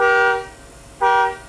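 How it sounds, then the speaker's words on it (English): Two loud, bright blasts of the air horn on a 2004 Fleetwood Bounder diesel pusher RV, the first about half a second long, then a pause and a second blast, close by. "it's got an air horn."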